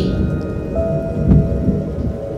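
Heavy rain pours steadily with a loud low rumble of thunder, a close, dense storm effect from an audio drama with no voices.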